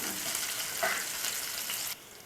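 Cloves and onions fry in a pan for pepper chicken chukka, a steady close hiss of sizzling oil with a brief stirring scrape midway, then the sizzle drops abruptly near the end, with no talk.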